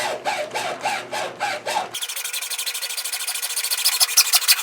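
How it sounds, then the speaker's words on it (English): A hacksaw draws slowly through PVC plastic drain pipe under a bathroom vanity, first in six evenly spaced rasping strokes, then in a faster, brighter run of short strokes, close and clear. "put the hacksaw on here, and you just go very slowly, and you can actually cut right through it"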